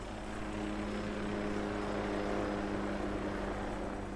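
A steady, throbbing mechanical hum with a low pulsing drone, like a helicopter rotor, from an air conditioner in the VR game Cooking Simulator, continuous and unchanging throughout.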